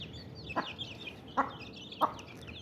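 Three short, separate clucks from chickens eating, spaced about a second apart over a faint background of soft chick peeps and rustling.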